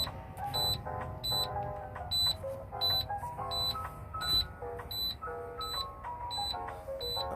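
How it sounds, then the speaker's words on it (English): A truck's low air pressure warning alarm sounding as the gauge drops to about 60 psi: a steady, rapidly repeating electronic beep pattern that is clear and continuous throughout, with no talking. "When the gauge get down to 60 psi and you start hearing the alarm."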